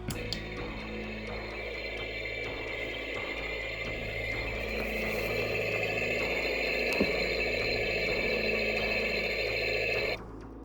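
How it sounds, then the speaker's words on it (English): Toy shark submarine playset from an Animal Planet Deep Sea Shark Rescue set plays a motor sound effect, a steady mechanical whirring drone that continues for about ten seconds before cutting off near the end. "so that was basically a motor sound effect going off"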